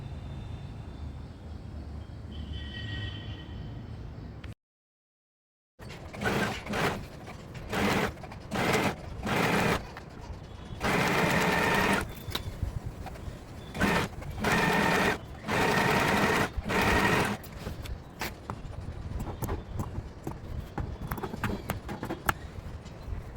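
A sewing machine stitches the back part of a crop top in many short, close bursts of rapid mechanical clatter, starting and stopping in an uneven rhythm after a brief silent gap.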